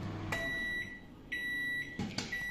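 A microwave oven timer finishing while popcorn cooks, giving three bright electronic beeps in an uneven pattern over a steady low hum inside a room.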